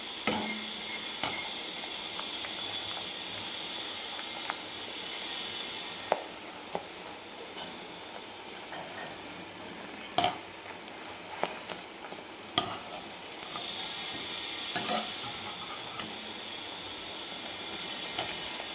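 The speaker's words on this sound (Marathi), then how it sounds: "आता पुऱ्या तळून घेऊ आपण" Puris deep-fry in hot oil with a steady, close sizzle and hiss, broken by occasional sharp clinks of a utensil against the pan; no one talks.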